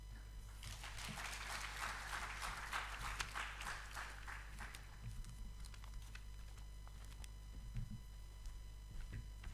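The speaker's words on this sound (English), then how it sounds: "a round of applause to our colleague" Quiet applause rises after a talk at an international education conference linked to the University of Rwanda, swelling for a few seconds, then thinning into scattered, isolated claps over a low background hum.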